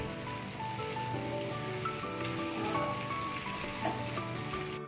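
Taro greens cooking with hilsa fish head sizzle steadily in a pan while being stirred, a continuous close frying crackle with faint scraping movements.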